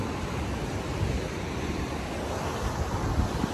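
Sea surf at Coco Beach in Goa rolls in as a continuous broadband wash, loud and steady with buffeting wind noise across the microphone and no voices.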